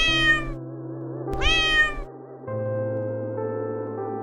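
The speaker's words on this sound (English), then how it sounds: "What does the cat say?" Two drawn-out cat meows ring out clearly over a steady background music bed, followed by music alone.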